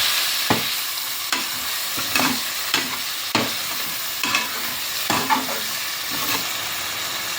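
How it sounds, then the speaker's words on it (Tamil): Tomatoes being sautéed in a pan for chana biryani, with a steady sizzle broken by about eight sharp scraping stirs of a spoon at irregular intervals, close and moderately loud with no talk. "தக்காளியை சேர்த்துட்டு நல்லா வதக்குங்க."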